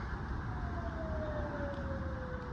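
A siren gliding slowly downward in pitch over steady traffic rumble, consistent with a police car passing by on a road; fairly loud and continuous, with no talk.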